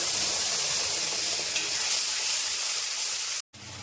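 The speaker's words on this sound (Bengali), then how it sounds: "ওই একই তেলের মধ্যে ফোড়নটা দিয়ে দিলাম আর আদা কাঁচা লঙ্কা টমেটো পেস্টটা দিয়ে দিচ্ছি" Ginger, green chili and tomato paste sizzle in hot oil, making a steady, bright, hissing crackle that runs unbroken for several seconds before a brief silent gap.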